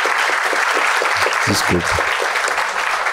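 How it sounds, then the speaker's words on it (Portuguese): An audience at a literary talk event gives a round of applause, the continuous clapping running under a man's brief spoken words. "queria pedir uma salva de palmas à dona Jandira"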